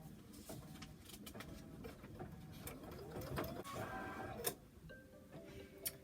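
An embroidery machine stitches a Kimberbell Kimberbear design, giving a busy, rapid mechanical clatter with ticks and whirs, fairly quiet and continuous, with a sharper click near the end.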